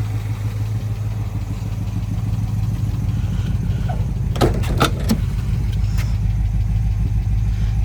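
A 1958 Plymouth car idles outdoors with a steady low engine rumble, close and constant, while a few brief sharp clicks or knocks sound over it midway.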